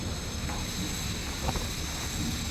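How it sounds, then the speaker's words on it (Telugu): Strong wind roars continuously, buffeting close against the microphone in a dense, steady rush with no voices, as a sudden rainstorm sets in. "ఇప్పుడు దీవత్సంగా ఉంది ఒక్క భయంకరమైన గాలి"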